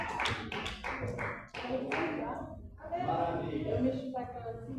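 Church congregation clapping during a worship service, a run of sharp rhythmic claps up close, followed by a voice talking.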